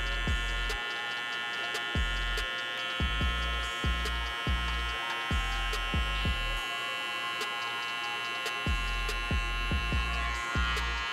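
Electric hair clipper buzzing steadily up close as it cuts a men's fade with the lever fully open, its tone broken by short repeated bumps and strokes as the corner works into tight areas.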